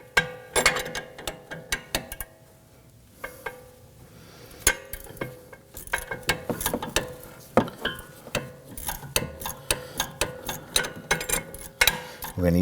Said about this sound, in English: We're going to use a number 6 Allen key on our ratchet.